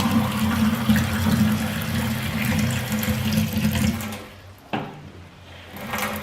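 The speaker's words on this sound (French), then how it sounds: "nous prenons le deuxième verre et nous le remplissons d'eau froide" Cold water runs from a tap into a glass, a steady close gush with rising pitch as the glass fills, then the flow stops and a brief clunk follows before near quiet.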